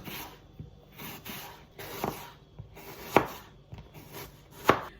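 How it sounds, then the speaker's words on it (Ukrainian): A knife slicing through apple on a board, producing a steady series of crisp cuts with soft scraping between them, close up and quiet. "І нарізаю на тоненькі півкільця."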